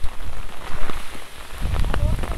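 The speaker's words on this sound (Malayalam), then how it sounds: "കാട്ടിനുള്ളിൽ ഇങ്ങനെ മഴ പെയ്തുകൊണ്ടിരിക്കുകയാണ്" Rain falls in a forest on the trek to Kudajadri, a soft steady patter with scattered nearby drips and drops, some low thumping and rustling of movement close by.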